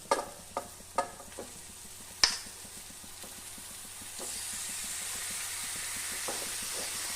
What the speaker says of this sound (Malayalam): നമുക്ക് ഇനി അതിലേക്ക് ചിക്കൻ ഇട്ട് കൊടുക്കാം.